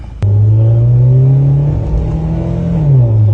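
A Toyota Yaris engine on a test drive revs up suddenly from quiet into a loud, steady droning rev that holds for several seconds, dips briefly, then rises again.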